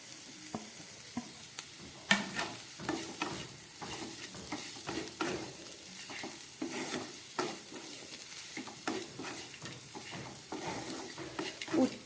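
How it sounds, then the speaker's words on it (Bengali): Fried potatoes are stirred into bitter gourd and onion sizzling with a little turmeric in a frying pan, giving a soft continuous sizzle broken by repeated scraping and tapping of the spatula. "এবার আমি এর মধ্যে দিয়ে দিচ্ছি এই ভেজে রাখা আলুগুলো"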